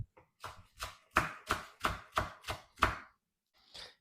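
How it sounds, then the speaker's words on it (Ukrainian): A knife chops cilantro on a cutting board in a steady run of about nine crisp, evenly spaced strokes, close and clear, ending with a softer scrape. "Далі нарізаю кінзу."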